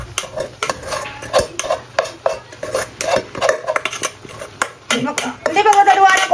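A metal utensil scrapes and clatters against a pan as leftover rice is stirred into cooked mixed vegetables, with rapid irregular knocks in a busy rhythm, close and fairly loud.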